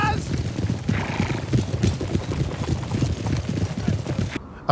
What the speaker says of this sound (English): Colonel Buller led a cavalry force across the river to scout out the ground beyond.